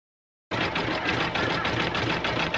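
An embroidery machine zigzag-stitching over two stitched lines on an in-the-hoop luggage tag, a rapid, even mechanical chatter that starts abruptly after a brief silence and runs on steadily, close and alone.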